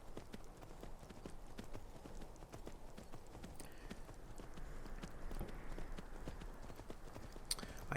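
Horse hooves clip-clop steadily in the video game Skyrim as a horse is ridden, a dense, continuous galloping patter over a constant background with no speech.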